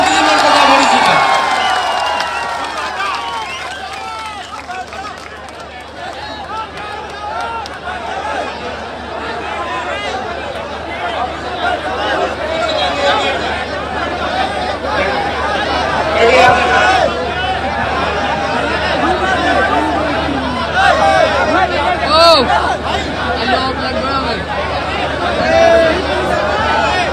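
A large crowd at a political rally claps and cheers loudly and steadily, with whoops and babble under someone talking over a PA.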